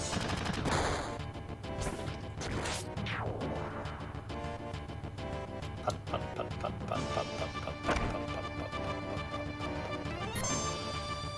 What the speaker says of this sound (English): Soldiers! Yay! With machine guns.